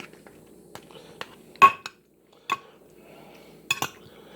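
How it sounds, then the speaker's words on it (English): Pasta shells and meatballs being mixed in a baking dish, with a utensil clinking and scraping against the dish in a few sharp knocks spread across the moment, fairly close with quiet gaps between. "I'm going to blend it all in there with the meatballs where it's all got a good mix."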